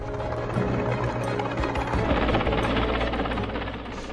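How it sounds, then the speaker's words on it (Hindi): An Air Force helicopter's heavy rotor thumping and turbine whine fill the air, loud and continuous as it flies close overhead while airlifting another helicopter near Amarnath. "एक हेलीकॉप्टर से दूसरे हेलीकॉप्टर को एयरलिफ्ट किया जा रहा है।"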